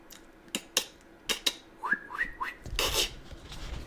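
A person's voice imitates dolphin sounds, giving sharp clicks, short rising whistles and squeaks at close range, followed by a breathy rasping burst.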